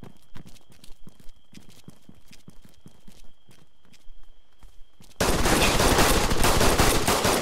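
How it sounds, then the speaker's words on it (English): Gunfire in the video game ArmA 3 crackles as scattered, fairly distant shots and short bursts, then gives way abruptly to a loud, dense wash of noise for the final seconds. "I hear bullets."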